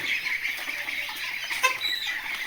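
Chickens cluck continuously on a poultry farm, a close, busy chorus of short overlapping calls from young birds, with no talking.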